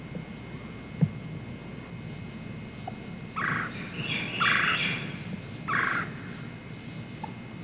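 A wild tom turkey with a large harem of hens gobbles out in spring woods, three loud rattling bursts in quick succession after a few faint clucks and a sharp knock.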